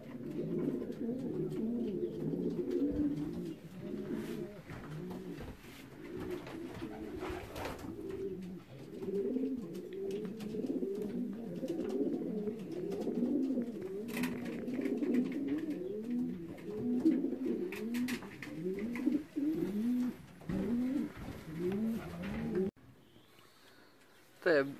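Racing pigeons back in the loft after a 309 km race from Olsztyn coo in a dense, rhythmic chorus of low rolling calls, close and steady throughout, with someone talking at moments.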